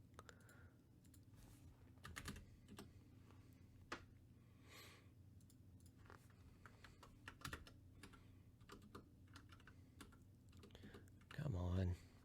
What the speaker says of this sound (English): I love my keyboard and hate it at the same time.